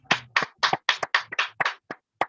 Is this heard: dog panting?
no